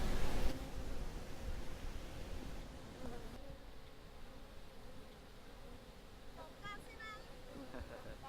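Honeybees at a beehive kept by a beekeeper in Cuba give a steady, low, faint buzzing hum throughout, with a few brief higher chirps near the end.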